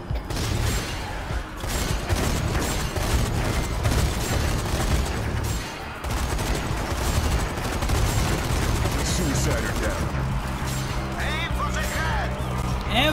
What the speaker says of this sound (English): there's a machine gunner